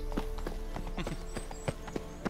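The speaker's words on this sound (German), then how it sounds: "Ein Wettrennen mit meinem Pferd." Hooves of a galloping horse in The Witcher 3 video game, a quick irregular clip-clop rhythm of thuds over steady background game sound, moderately loud with no talking.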